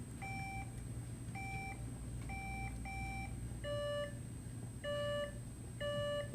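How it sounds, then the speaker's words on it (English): Electronic quiz buzzers sound off one after another at a high school quiz finals, each a short, clear beep with its own pitch, ringing out in a steady series of separate tones over a quiet room. "Can we go ahead and test the buzzers real quick?"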